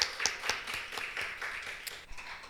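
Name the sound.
church congregation clapping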